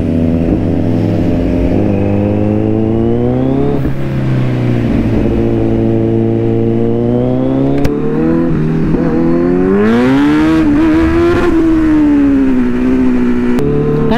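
A Kawasaki Z900 motorcycle engine revs and accelerates through the gears, its loud, close exhaust note rising and falling in pitch with shifts during a ride.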